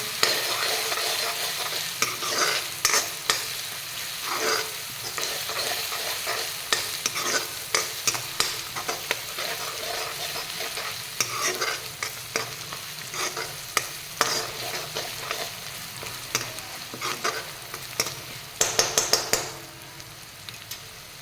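Masala for an akka masoor curry roasts in a pan, keeping up a continuous sizzle and frying hiss, with frequent scraping and clattering strokes of a spatula stirring it, busiest toward the end.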